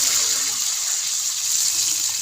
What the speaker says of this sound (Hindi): 1 लीटर पानी भर के डाला है।